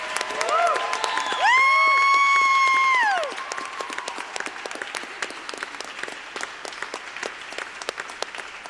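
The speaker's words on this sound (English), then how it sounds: "Give him a round of applause for that." Enthusiastic crowd applause with whistles and cheers at an awards show, loud at first, then thinning into scattered clapping that continues to the end.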